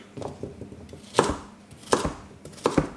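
A knife cubes a crisp raw yacon root on a cutting board, a few sharp, close cuts spaced about a second apart, with no talking.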